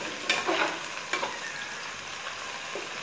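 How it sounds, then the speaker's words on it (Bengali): Onions for chicken biryani fry in oil with a steady, gentle sizzle and crackle, broken by a few scraping stirs from a spoon, close and quiet with no talk. "সবগুলো পেঁয়াজ দিয়ে দিলাম, পেঁয়াজগুলো ভেজে আমি একটু লাল করে নিব।"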